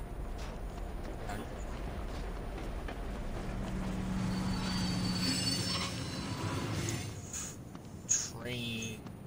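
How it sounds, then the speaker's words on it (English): A train rumbles past in the video game Saints Row, with steady rolling noise, brief squealing wheels and a sharp clank near the end, under low background sound. "Oh, no, train."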